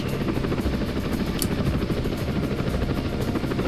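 A large Russian transport helicopter in Apache Longbow Assault, its rotor chopping loudly and steadily close by, a heavy continuous thudding drone with no voices.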